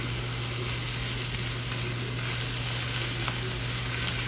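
Vegetables seasoned with black pepper cook in a pan for a vegan tomato sauce, giving a continuous bright sizzle with a faint low hum beneath and an occasional light tap, close and steady, no talking.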